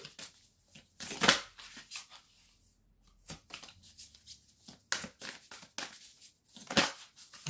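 Oracle cards shuffled for a tarot reading, close and fairly quiet, in short riffling and sliding bursts separated by brief pauses.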